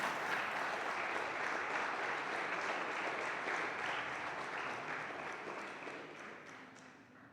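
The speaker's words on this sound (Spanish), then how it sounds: "Dale una palabra, un aplauso al Señor" A church congregation applauds during a sermon on faith, a broad sustained clapping that holds steady and then gradually fades toward the end.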